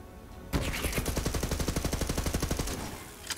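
A rapid-fire gun with a second barrel that increases its fire rate, in the video game Borderlands 3, lets off one long, loud burst of evenly spaced shots that stops abruptly, then fades into a quieter ambient bed.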